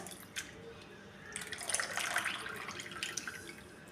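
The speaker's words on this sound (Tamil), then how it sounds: "இதை வந்து நம்ம தண்ணி ஊற்றி அலசி எடுத்துக்கலாம்" Water is poured over grated potatoes to rinse them, giving a soft splashing and trickling that builds midway and then settles into light drips, with no talking.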